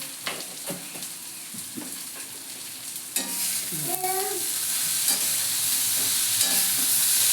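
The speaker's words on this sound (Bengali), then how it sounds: "হলুদ দিয়ে তারপরে নাড়াচাড়া করবো" Leafy greens with turmeric in a kadai hiss and sizzle as a spatula stirs them, with clattering scrapes against the pan, a squeaky metallic scrape in the middle, and the frying noise growing louder toward the end.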